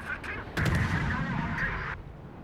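A naval gun salvo from an IJN Asashio destroyer in World of Warships, a cluster of booming shots followed by a sustained rumbling roar that cuts off sharply.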